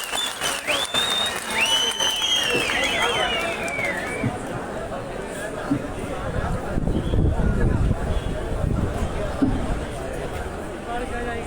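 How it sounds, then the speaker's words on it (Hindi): Audience at a public event in Mandi applauding loudly for a minister, a dense sustained round of clapping mixed with crowd babble and some whistles. "तालियों के साथ"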